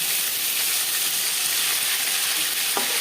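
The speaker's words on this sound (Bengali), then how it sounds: "একটা সাইড ভাজা হয়ে গেলে অপর সাইডটা উল্টে দেবো।" Pieces of katla fish fry in a pan of oil, giving a loud, steady, close hiss of sizzling with a couple of sharp clicks near the end and no talking.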